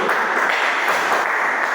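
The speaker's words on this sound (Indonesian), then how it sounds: "Oke, beri tepuk tangan buat Vivi." Short burst of classroom applause for a student during a microteaching lesson, steady mid-level clapping throughout with no talk over it.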